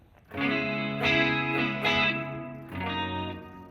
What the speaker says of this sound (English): So that's too much reverb, I think.